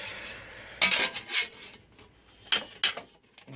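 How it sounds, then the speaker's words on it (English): Someone sands a metal trike front-end part, producing several short, close rasping scrapes in separate bursts with quiet pauses between them. "I'm gonna have to sand that up again"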